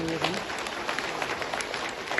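An audience at a Hindu religious gathering in a temple claps to welcome a committee, a steady patter of applause with a few louder sharp claps.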